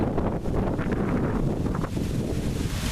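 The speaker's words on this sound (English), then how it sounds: "it's a very windy November day here at the shore" Steady, loud wind at the shore on a November day buffeting the microphone, a continuous low rumble and rush with no voices, gusting slightly throughout.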